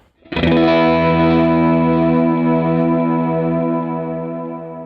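A single sustained chord on an electric guitar through an effects unit with short reverb, struck loudly and left to ring for several seconds as it slowly decays, with no talk.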